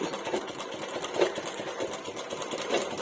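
Sewing machine stitching along a drawn line on paper during a beginner tailoring lesson, a close, continuous motor hum with soft rhythmic needle thumps and no talking.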